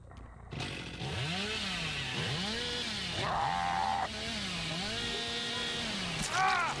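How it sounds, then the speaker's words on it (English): A video-game chainsaw revs loudly and up close, its engine pitch rising and falling in repeated surges, with a brief higher whine partway through and no speech over it. "I can hit him with a chainsaw"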